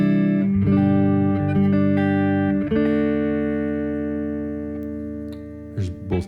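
Clean electric guitar on the neck pickup, an Eastwood Warren Ellis model run through a Warm Audio Pedal76 compressor: a strummed chord rings out, another follows and sustains evenly for seconds, with a few light string touches near the end.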